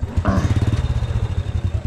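A small 100cc motorcycle engine labors up a slope on a mountain track, its close, steady low chugging pulsing rhythmically with a brief rise in pitch near the start.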